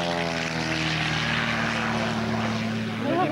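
A Pitts S2 Special aerobatic biplane drones overhead at an air show, its propeller engine giving a steady, loud buzzing hum that holds throughout with a slight shift at the close.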